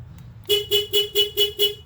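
2002 Isuzu Trooper with a 3.5 L engine sounding six rapid, evenly spaced horn chirps in a row after the key fob is pressed, loud and close, following a low idle hum with no talk.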